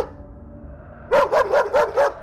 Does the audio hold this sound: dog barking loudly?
yes